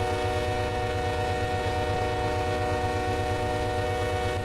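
Freight train in the Run 8 Train Sim video game, a 6,000-foot train heading to Orlando, Florida, with a steady diesel engine drone and a sustained horn tone, continuous and fairly close.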